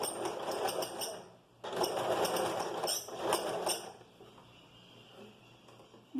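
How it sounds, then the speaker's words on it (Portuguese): A sewing machine stitches along the edge of bias binding on a skirt, running in two bursts of rapid mechanical chatter close by, with a short pause between and a quieter hum trailing off. "a gente vai costurar bem na beirinha aqui do viés"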